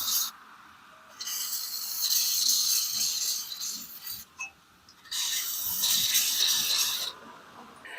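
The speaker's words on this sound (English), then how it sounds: "my ratchet with an extender bar because I want to loosen the ball joint nut" A ratchet fitted with an extender bar works on a ball joint nut during tie rod replacement on a Buick Encore, giving two long, steady stretches of dry rasping clicks with a short pause between, close and fairly loud.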